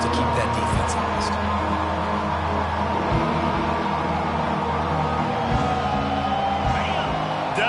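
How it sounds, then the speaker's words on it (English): A dense stadium crowd roars steadily during a third down in a Florida vs UT football game, the noise loud and sustained with scattered whoops, while a commentator talks over it. "Decibels rising as the crowd gets behind this defense on third down."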